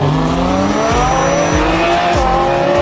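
Loud racing-car engines whine and rise in pitch in a race scene, with tires squealing and skidding and repeated gear-shift drops in engine pitch, all close and continuous.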